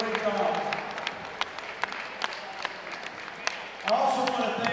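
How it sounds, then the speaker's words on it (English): A crowd at a high-school wrestling tournament of champions gives a round of applause for the officials, moderately loud clapping from a distance heard beneath someone speaking over a microphone. "Let's give a round of applause to our officials."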